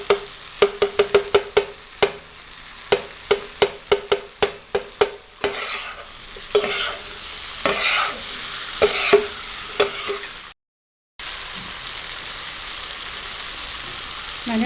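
A spoon scrapes and clacks rhythmically in a pan as rice is mixed into tomatoes and oil for tawa pulao, a dozen quick strokes giving way to steady sizzling, close and fairly loud.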